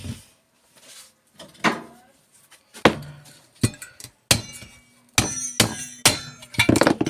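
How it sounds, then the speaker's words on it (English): Sharp metallic hammer blows bash through a part while a microwave is stripped for recycling, several loud separate impacts with clinks, quickening toward the end. "then get the hammer and bash that through like that."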